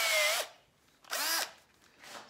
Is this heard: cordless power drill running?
yes